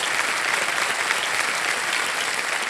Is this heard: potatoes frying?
no